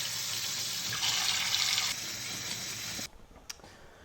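A kitchen tap runs water into a 2-gallon pot holding a whole chicken, a steady close gush that grows fuller, then shifts in tone and stops abruptly, followed by a few faint clinks.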